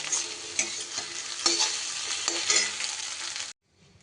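Egg frying in mustard oil in a pan, a crisp sizzle with crackles and stirring scrapes, close and continuous before cutting off abruptly.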